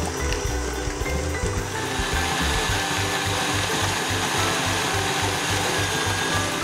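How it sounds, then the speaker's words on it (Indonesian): Electric mixer whisking ontbijtkoek batter at medium speed until fluffy, a steady motor whir with a rhythmic churning pulse, close and continuous with no talk. "ini kita kocok sampai mengembang"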